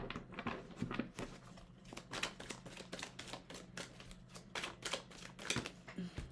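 Tarot cards being shuffled in a close, steady run of crisp riffling taps and flicks, with no talking.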